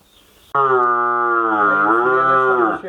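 A single loud, close moo from a Holstein Friesian cow, a long drawn-out call of about two and a half seconds that rises and falls before trailing off.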